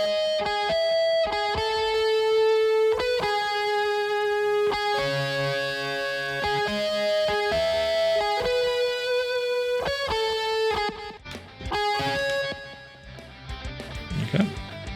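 Two layered synths, a 1984 patch and a TDR patch, playing together in a mix as sustained chords and notes, moderately loud, thinning out toward the end.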